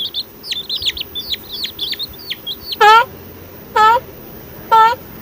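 A young chick cheeps in quick, high chirps, then gives three louder, longer calls spaced about a second apart, close to the microphone.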